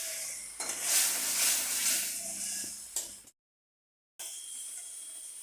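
Spice paste sizzles and hisses loudly as it fries in hot oil in a pan, with stirring scrapes. It cuts out briefly, then returns as a quieter sizzle.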